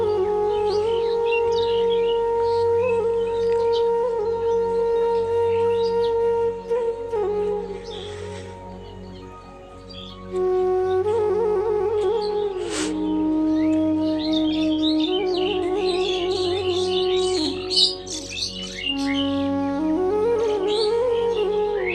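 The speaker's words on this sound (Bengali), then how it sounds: "এই যে শালিক পাখি ঝগড়া করে।" Birds call on a foggy morning, mynas squabbling nearby in busy overlapping chatter and whistled notes, with a steady low hum underneath.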